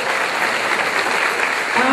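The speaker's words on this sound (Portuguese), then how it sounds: "Aplauda o Senhor por essa palavra." A church congregation breaks into sustained, dense applause during a Portuguese-language sermon, the clapping steady and full throughout with a slight swell near the end.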